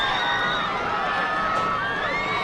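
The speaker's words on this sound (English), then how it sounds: "What you hear is the Commerce crowd as they scream" Commerce Tigers home crowd at a high school football game against the Howe Bulldogs, screaming and cheering after the win, a steady dense roar with high shrill shouts and whoops throughout.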